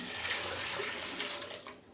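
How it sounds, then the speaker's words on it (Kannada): A steady stream of water pours and splashes into a pressure cooker with oil and tomatoes for sambar, close and moderately quiet, with small clinks near the end. "ನೀರು ಹಾಕೊತಾ ಇದ್ದೀನಿ"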